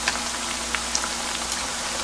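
Hot oil sizzles and crackles steadily as lotus root deep-fries until crisp and brown, a dense hiss broken by small pops, close and continuous without any talking.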